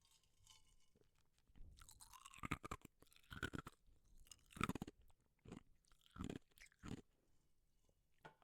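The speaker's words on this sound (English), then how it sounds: "So I'm gonna give you guys some ice ASMR." Close, crisp crunching and chewing of ice cubes, with bursts of loud cracking bites separated by quieter gnawing and short pauses, in an intimate close-miked setting.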